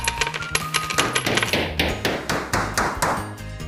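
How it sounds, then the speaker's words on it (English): A hammer drives nails into a shop floor in a rapid series of sharp metallic taps and knocks, close and fairly loud, about a dozen strikes in uneven rhythm. "Little Critter hammered some nails into the shop floor to test the hammer."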